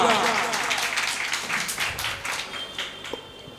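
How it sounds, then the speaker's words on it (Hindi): At an evening religious lecture gathering, a crowd claps in a dense, fairly loud burst that gradually thins and fades over a few seconds, with a voice faintly present underneath. "जोरदार तालियां"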